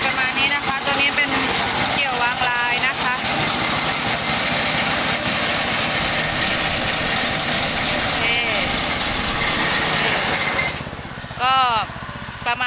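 A two-tier rice harvester windrower's small engine runs steadily at a loud, close idle with constant vibration, and a brief higher whine near the end.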